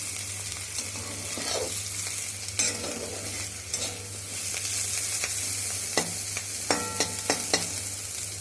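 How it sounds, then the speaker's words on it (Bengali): Onions frying in a pan while being stirred, a steady sizzle with scraping utensil strokes and occasional clicks against the pan, close and continuous throughout. "এবার পেঁয়াজটা দেখুন একটু একটু মানে ভাজা হয়ে গিয়েছে।"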